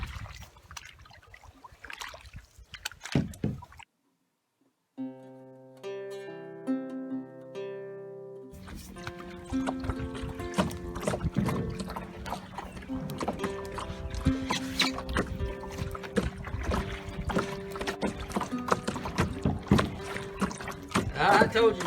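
A rowboat is rowed across a lake at Morrow Mountain State Park, with rhythmic oar splashes and water trickling. A person talks over the rowing, and a brief stretch of music cuts in early on.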